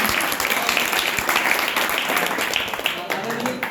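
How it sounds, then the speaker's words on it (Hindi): Audience at a theatre workshop gives a loud, sustained round of applause, dense clapping filling the room from start to finish with scattered voices mixed in. "एक बार जोरदार ताली आपके लिए"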